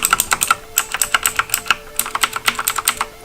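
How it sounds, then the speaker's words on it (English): Fast, clicky keystrokes on a Razer BlackWidow Chroma V2 mechanical keyboard with green switches, close and crisp in uneven bursts of rapid taps with short pauses between runs. "We have my Razer keyboard."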